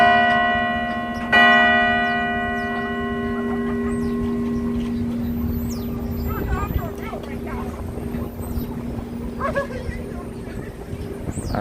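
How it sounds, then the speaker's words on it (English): Worker figures on a monument clock on Broadway in New York strike a bell once at one o'clock, a single loud clang with a long ringing decay over city traffic noise and voices. "So 1 hit on the bell by each of these workers."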